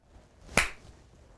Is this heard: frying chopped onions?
no